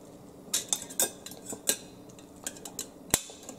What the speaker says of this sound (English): Chop up your eggs, however you want to do that.